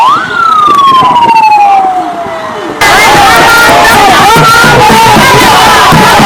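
Loud, shrill ululating cries rise and fall, then a dense roar of crowd applause and cheering takes over and continues steadily.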